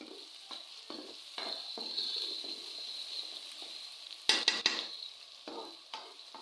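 Garlic ginger paste sautés in a pan with softened onions, giving a quiet, steady sizzle broken by bursts of stirring and a few sharp scraping clinks, with no speech.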